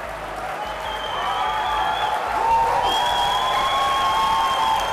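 A large crowd at a Nintendo E3 press conference applauds and cheers for a game announcement, steady dense clapping that swells midway, loud and close, with a voice speaking over it.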